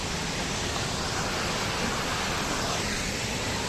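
The Nanemachi waterfall in Raigad during the monsoon pours down as a dense, steady roar of rushing water, loud and unbroken throughout, with no voices.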